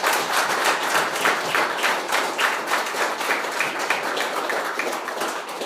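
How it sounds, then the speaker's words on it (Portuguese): A church congregation breaks into sustained applause, dense overlapping clapping that stays loud and even from start to finish, with no speech on top. "Vamos dar uma salva de palmas"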